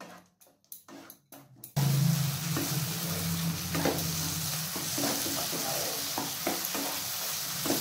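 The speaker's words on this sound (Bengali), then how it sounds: "এরপর টমেটো পেস্টটাকে মশলার সাথে ভালো করে কষিয়ে নিচ্ছি" Tomato paste with spices hits a hot pan and sizzles loudly, then keeps frying with steady crackle and scraping stirring strokes, after a few soft taps at the start.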